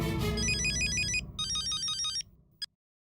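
A telephone rings in a Hindi family comedy scene at home, electronic ringtone bursts repeating twice with a short gap, loud and close, ending with a brief final chirp before silence.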